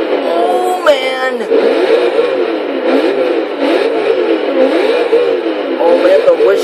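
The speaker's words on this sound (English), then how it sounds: "the whoosh of the twin turbos" A twin-turbo V8 Chevrolet Corvette in Forza Motorsport 6 revs with turbo whoosh, steady and loud, shifting pitch as it accelerates, with someone talking excitedly over it throughout.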